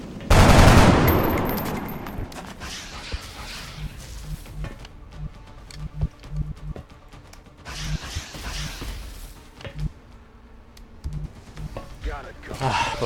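Soldiers fire weapons in XCOM, with a loud opening burst followed by scattered shots and bursts of gunfire, some near and some softer, over a busy tactical game soundscape.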